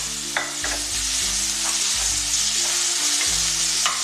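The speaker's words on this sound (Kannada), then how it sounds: "ಇದು ಚೆನ್ನಾಗಿ ಫ್ರೈ ಆಗಬೇಕು." Clams with tomato and ginger-garlic paste frying in a pan for Karwar-style sukka, a loud, constant sizzle with repeated low thuds and scrapes of stirring.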